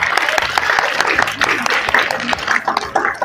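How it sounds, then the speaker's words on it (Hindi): Studio audience applause on a Hindi quiz show, a short burst of dense clapping with some voices mixed in. "चलिए जोरदार तालियां हो जाएगा।"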